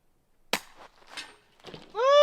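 A sharp, loud gunshot crack followed by a few rattling impacts, ending in a bright, ringing metallic tone that sustains as the bullet strikes metal.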